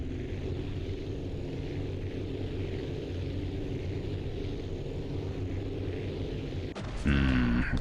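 Aircraft engine drones steadily at full power during a takeoff in the video game Aviassembly, a continuous buzzing hum that shifts to a higher, changing engine tone in the last second.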